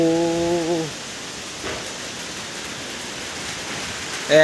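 Rain from the year's first storm hisses steadily and evenly on surfaces, a constant wash of noise with brief tonal sounds at the start and end.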